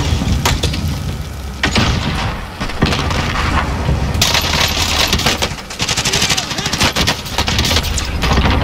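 Explosions and bursts of gunfire from Call of Duty Warzone rattle loudly and continuously, with sharp blasts and rapid shots layered in dense game combat noise.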